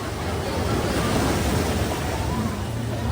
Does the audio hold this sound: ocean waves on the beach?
yes